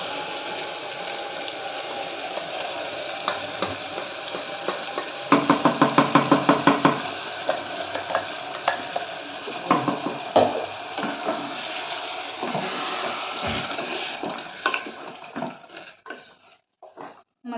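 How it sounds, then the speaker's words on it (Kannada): Ground masala paste for veg donne biryani frying over a medium flame in a pan with softened vegetables, a steady sizzle running throughout with a burst of rapid spoon scrapes and knocks against the pan, then scattered clinks as stirring continues. "ಮಸಾಲ ಹಸಿ ವಾಸನೆ ಹೋಗುವವರೆಗೂ ಚೆನ್ನಾಗಿ ಹುರ್ಕೋಬೇಕಾಗುತ್ತೆ ಮೀಡಿಯಂ ಫ್ಲೇಮ್ ಇಟ್ಟು"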